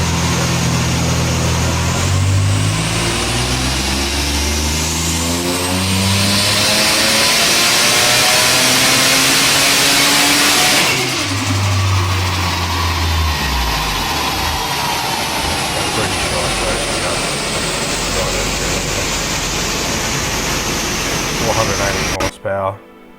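A VY V6 turbo Commodore, fitted with a freshly installed replacement motor, revs hard on a dyno during a tune: loud, sustained engine roar with rising and falling pitch sweeps as it climbs through the revs, then cuts off abruptly near the end.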